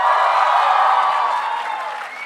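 A large audience at a live conversation event with filmmaker Imtiaz Ali breaks into dense, sustained applause that fades slightly toward the end, loud and filling the room.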